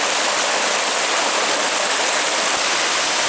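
Water rushes steadily over a single-log dam on a cliffside hike near Chapel Rock, a loud, continuous broadband wash close by with no pauses and no voices.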